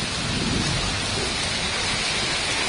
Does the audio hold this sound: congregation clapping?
no